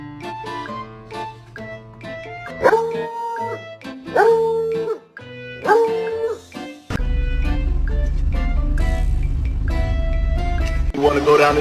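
A dog close by yips and barks, then lets out three long rising-and-falling howls, followed by a loud, steady rumbling noise.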